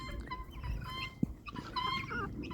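Chickens and guinea fowl cluck and chatter outdoors after rain in a farmyard, soft scattered calls with one sharp peck-like tap in the middle.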